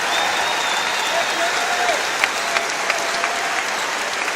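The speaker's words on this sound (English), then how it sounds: "so that they could get an ovation from the crowd" Sustained crowd ovation and applause at a college basketball arena during a Michigan Wolverines at Maryland Terrapins game, a dense steady roar of clapping and cheering with a few sharper peaks, loud and continuous throughout.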